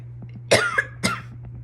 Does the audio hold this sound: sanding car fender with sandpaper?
no